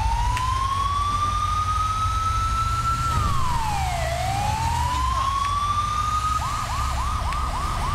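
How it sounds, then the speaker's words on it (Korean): A fire truck siren wails in the video game GTA V, sweeping slowly up and down before switching to a fast repeating yelp, steady and fairly loud over a low rumble of traffic and engine noise. "소방차입니다."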